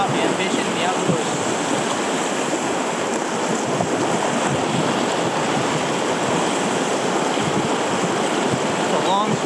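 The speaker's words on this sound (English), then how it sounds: "It's a long stretch of small white water and some boulders." A long stretch of small white water rushes over boulders on a steelhead river during a snowstorm, a steady, loud, unbroken roar close by.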